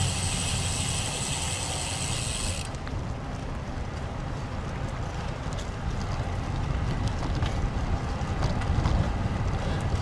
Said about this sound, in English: We're riding into the wind now